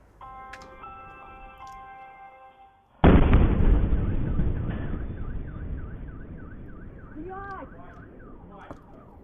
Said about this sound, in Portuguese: Aqui parece que tem uma imagem da explosão